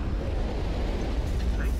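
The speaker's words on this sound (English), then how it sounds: "Fireworks ahead." Fireworks bursting in the VR game ER, a steady rumbling roar of blasts and crackle with no distinct separate pops, heard under people talking.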